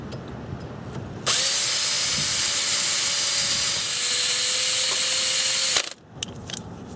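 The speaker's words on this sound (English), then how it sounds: "So we'll need to drill this out." A power drill bores out a snapped cotter pin during a Honda and Acura ball joint replacement, one loud, steady whine lasting about four and a half seconds, then stopping abruptly, with light tool clatter around it.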